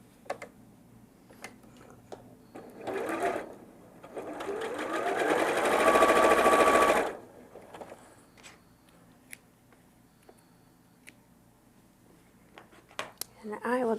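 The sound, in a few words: sewing machine sewing quilt fabric pieces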